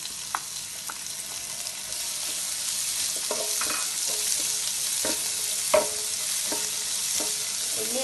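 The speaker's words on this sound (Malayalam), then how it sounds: "ഉള്ളി ഏകദേശം നല്ല ഫ്രൈ ആയി വരുന്നുണ്ട്." Onions fry in oil in a pan on an induction cooker, giving a faint steady sizzle broken by occasional clicks and scrapes of stirring, with no voices.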